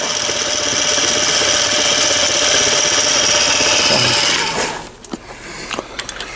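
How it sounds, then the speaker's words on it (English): A Harbor Freight mini mill runs with a steady close motor hum and mechanical whir, then winds down and stops about two-thirds through, leaving a few sharp clicks and knocks. "this is the Harbor Freight mini mill"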